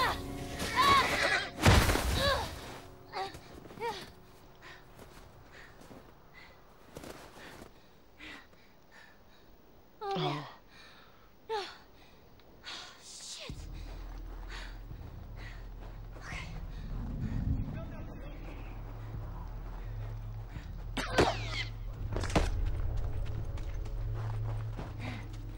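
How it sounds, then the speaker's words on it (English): A horse whinnies and snorts amid clip-clopping hooves and gunfire-like game sounds in The Last of Us, with bursts of noise and a steady rumble later on. "Don't shoot the horse."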